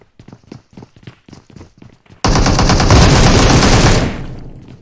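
Dense burst of automatic gunfire from a battle royale video game, loud and sustained for about two seconds after a run of lighter rhythmic thuds, then fading out.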